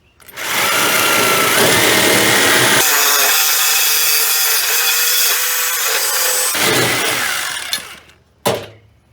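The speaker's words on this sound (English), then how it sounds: "you could saw by hand with a hacksaw" A hacksaw cuts through material for a garden trellis, a loud, close, continuous rasping drone lasting several seconds before stopping, followed by a short final scrape.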